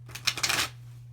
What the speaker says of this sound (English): I'm trying to shuffle up here, but it makes a lot of noise on that mirror.